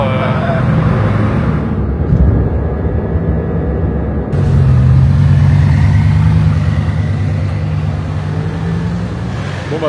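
A Porsche 991 phase 2 Turbo S engine rumbles loud and close on a Monaco street, rising into a sustained rev partway through over steady traffic noise.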